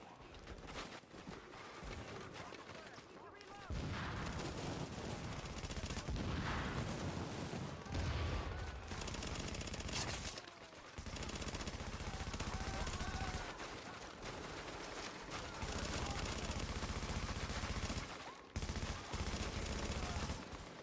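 Sustained video game gunfire, dense rapid volleys and bursts rattling almost continuously for about twenty seconds, with a few brief lulls between barrages.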